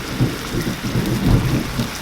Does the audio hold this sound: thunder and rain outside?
yes